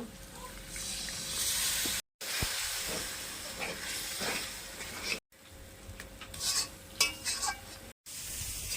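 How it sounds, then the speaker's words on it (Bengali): Spice paste fries with a little water while a spoon stirs it, giving a steady sizzling hiss broken by scraping strokes against the pan. Three brief cuts to silence interrupt it, and a thin tone runs underneath. "মশলাতে আর একটু জল দিয়ে ভালো করে কষিয়ে নেব"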